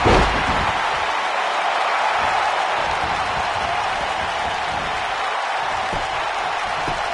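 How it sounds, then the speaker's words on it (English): A loud, steady roar of a large crowd cheering, broadband and sustained with no pauses, like an arena full of spectators. "by the sound of this crowd, I think they're getting what they wanted"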